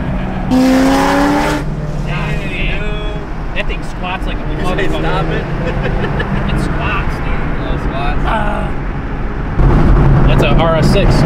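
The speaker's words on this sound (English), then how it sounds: "That's a RS6." An Audi RS6 drives past in a tunnel, its engine roar building and swelling briefly, with people talking throughout over continuous traffic and engine noise.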